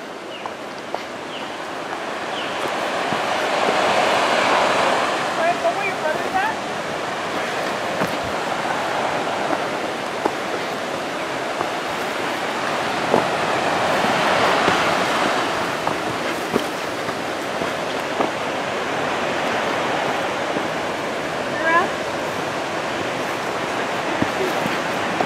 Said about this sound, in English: There's a waterfall down here.